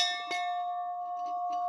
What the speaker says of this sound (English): all I know is a school bell. It's about a 14-inch diameter.